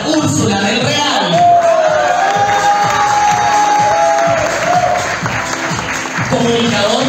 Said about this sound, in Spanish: Fuerte el aplauso para Úrsula del Real.